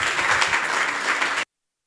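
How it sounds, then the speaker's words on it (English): An audience applauding to welcome a speaker at a Vyasa Puja celebration, dense loud clapping for about a second and a half before cutting off abruptly into silence. "Please give a applause and a welcome to Hari Sankirtan today."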